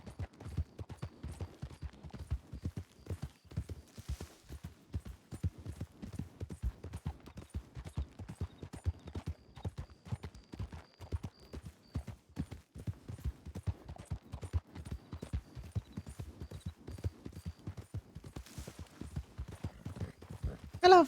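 Steady clip-clop of an untrained Nakota horse's hooves in Red Dead Redemption 2, continuous regular hoofbeats at a close walking or trotting pace, moderately loud with no talk over them.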